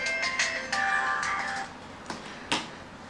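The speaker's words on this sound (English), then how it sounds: "oh, my phone's ringing." A mobile phone rings indoors with a bright, tonal electronic melody in short repeating bursts, followed by a couple of faint clicks.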